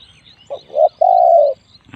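Birds call close by at a morning decoy trapping session before work. One short cooing note is followed by a longer, steady, mellow coo over a quiet background with faint high chirps.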